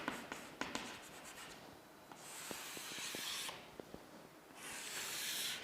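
Writing strokes scratch and squeak on a board, close and fairly quiet, with short taps early on and longer hissing swipes later, with no voices.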